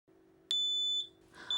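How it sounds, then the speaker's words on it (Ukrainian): A shrill electronic smoke alarm in an apartment beeps loudly and steadily, cutting off briefly before sounding again, over a faint low hum. "Вони створюють гучний шум, коли в квартирі дим."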